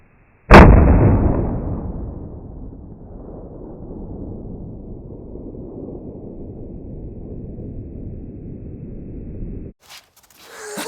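A single loud 6.5 Creedmoor rifle shot fired at long range, a sharp close blast followed by a long rolling echo that fades slowly over several seconds before a brief rustle.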